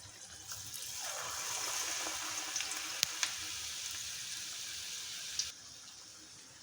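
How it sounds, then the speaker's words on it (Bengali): Coriander leaf fritters coated in gram flour batter sizzle steadily in hot oil, a close, bright, hissing fry that swells in after a second and holds evenly before easing off near the end, with a few soft pops. "এখানে চপ ভাজা হচ্ছে"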